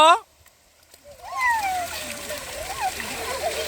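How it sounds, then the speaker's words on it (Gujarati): Children splash in water where paper boats float, with bursts of splashing and sloshing close by under the voices of children and an adult talking. "ચાલો પાણીમાં છપછપિયા કરો"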